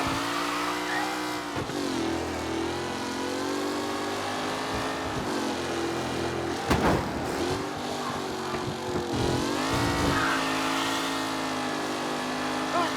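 Racing cars in Mafia Definitive Edition roar steadily past, engines revving and shifting with brief tire squeals, a loud continuous race-track din.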